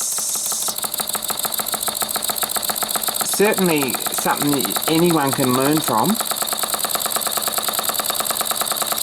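A small hobby-built model engine, made from castings and fitted with a flywheel, runs steadily with a fast ratchet-like mechanical clatter. Someone talks over it in the middle of the clip.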